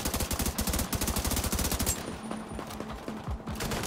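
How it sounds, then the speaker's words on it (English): Rapid automatic gunfire in The Division 2 video game, close and loud bursts of rattling shots for about two seconds, then sparser, quieter shots and game effects trailing off, with no talking. "Who the fuck, man, is firing at me, man?"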